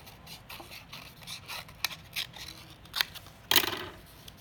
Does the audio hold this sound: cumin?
no